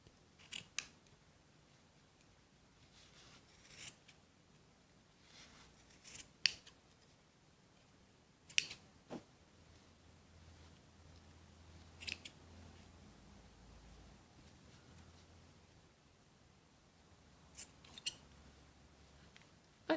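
Scissors cut yarn for a crochet baby hat, sharp isolated snips spaced irregularly across a quiet room, close and crisp with long pauses between cuts and no talking.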